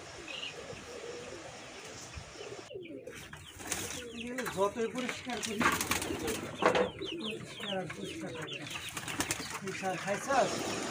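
Hungry pet pigeons coo and flutter in a flock as they wait to be fed, with a busy layer of soft cooing and wing flaps continuing throughout, a person talking over them.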